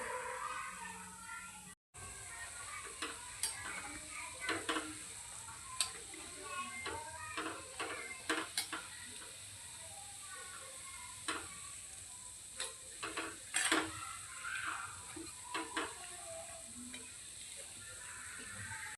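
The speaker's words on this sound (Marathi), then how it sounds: "दोन्ही साईडला असं पलटून आपल्याला छान असं हे फ्राय करून घ्यायचे" Gulab jamun frying in oil, turned over to brown on both sides, give a steady soft sizzle with scattered small crackles and ticks, close and moderately quiet, with no talking.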